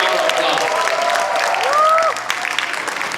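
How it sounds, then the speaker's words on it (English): Loud applause and cheering from an audience at a team event, dense clapping throughout with voices and a few whoops rising above it midway. "can you please give our amazing MC a really big round of applause?"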